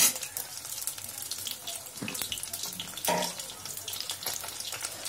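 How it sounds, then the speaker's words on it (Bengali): Paneer pieces frying in a pan for chili paneer give a steady, close hiss that runs the whole time, with a few brief louder bursts as pieces go in. "এইভাবে এক এক করে পনিরগুলো দেবে, ভালো করে ভাজবে।"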